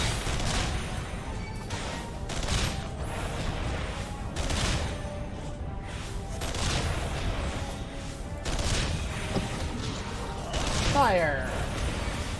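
Repeated gunfire volleys in the Final Fantasy XIV video game ring out as a series of sharp bursts, with game characters speaking between and over the shots.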